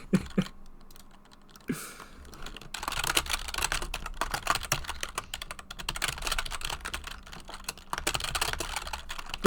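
Continuous rapid typing on a computer keyboard, dense overlapping keystrokes that build from a few scattered clicks into steady fast clatter, close and fairly loud with no voices.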